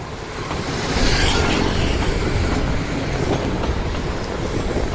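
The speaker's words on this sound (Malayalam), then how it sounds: "നമ്മൾ പറഞ്ഞ ട്രെയിൻ വരുന്നുണ്ട്, നിങ്ങൾ കാണില്ലേ?" A train rolls past near Kadalundi Bird Sanctuary with a loud, sustained rumble and rattle of wagons that swells around the first second and stays steady, with no voices over it.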